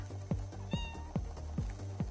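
A cat meows in a video game, five short, evenly spaced calls about every half second, clear and close over a faint steady background hum.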